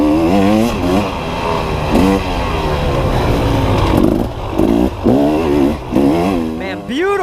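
A dirt bike engine at full throttle on a harescramble trail at Knobby Acres, revving loud and close in rising and falling surges as gears change, with a rider's voice breaking in near the end.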